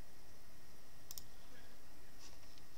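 A computer mouse clicked while navigating an online back office: a pair of quick, sharp clicks and a fainter later one over a steady hiss.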